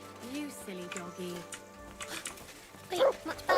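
A dog gives a few short yips and whimpers close by, broken up between stretches of someone talking.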